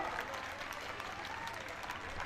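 An audience at a polytechnic farewell program claps to welcome a song, a soft, steady spread of applause heard from some distance and fairly faint.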